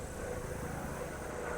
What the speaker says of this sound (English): Shut up, helicopter.